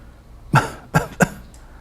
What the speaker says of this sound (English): most people who take lisinopril will have that little cough